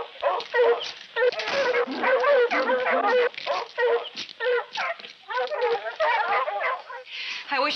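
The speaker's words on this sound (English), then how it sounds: "my men are ready with dogs outside." Tracking dogs outside bark and yelp in an excited pack, a dense, continuous clamor of overlapping barks and yips, loud and close, with a slightly narrow, old-film tone.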